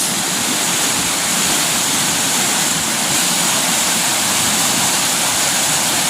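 Floodwater rushes powerfully through a rocky channel after sweeping away branches and fallen wood, a loud, steady, dense roar close by that never lets up.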